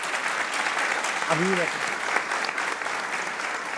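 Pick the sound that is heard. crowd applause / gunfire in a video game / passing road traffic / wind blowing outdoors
crowd applause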